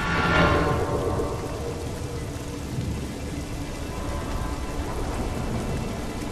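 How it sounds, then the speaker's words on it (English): Steady rain falls at night in the shooter Crysis 2, a dense constant hiss of drops on surfaces with a faint low rumble beneath, continuous throughout with no voices. "you know it's a bad day when it's fucking raining"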